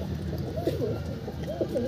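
Pigeons in a loft cooing softly and repeatedly, close by, with low rolling calls over a steady background.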